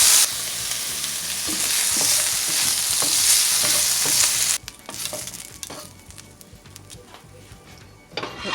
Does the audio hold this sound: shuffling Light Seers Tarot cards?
no